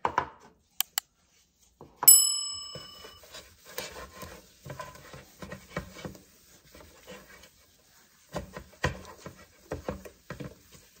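A pan scrubbed clean with a wash rag or stainless steel scrubby, giving soft uneven rubbing and rasping strokes in bursts, with a few sharp clinks and a ringing metallic tap near the start.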